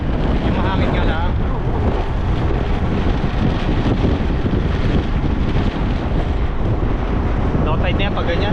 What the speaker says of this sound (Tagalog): Yung mahangin nga lang.